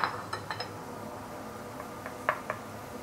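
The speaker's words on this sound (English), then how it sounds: "And then you want to saute all the fresh herbs here. Garlic, ginger, shallot, and also fresh coriander roots." Garlic, ginger, shallot and fresh coriander roots sauté in a pan for a homemade mala hotpot, giving a faint, steady sizzle with a few light, scattered clinks of a utensil against the pan and no talk.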